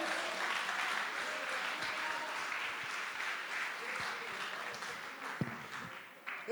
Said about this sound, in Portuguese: Dá um aplauso ao Rei da Glória.